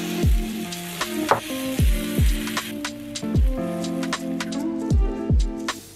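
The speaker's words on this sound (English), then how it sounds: "So I'm going to fry it now." Coconut flour batter fries in a pan at breakfast time, a close, steady sizzle with repeated soft pops and taps throughout and no voices.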